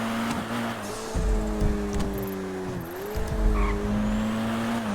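A video game motorcycle engine drones steadily and loud, its pitch rising and dipping as it passes, with tire noise mixed in and no talk.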